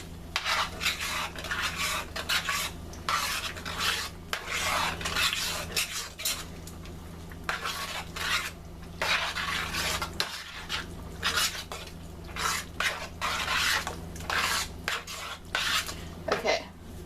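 A utensil scrapes and clinks against a pan while dillweed and paprika are stirred into vegetarian stroganoff, a busy run of metallic rasps and taps in irregular strokes, close and fairly loud, with no talking.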